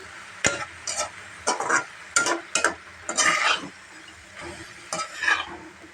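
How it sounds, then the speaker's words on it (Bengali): Data shak, amaranth stem greens, stir-fried in a pan, sounding as a series of distinct scraping and tossing strokes roughly every half second over a soft background sizzle, with no voices. "আজকে আমি এই ডাটা শাকটারে ভাজি করতেছি"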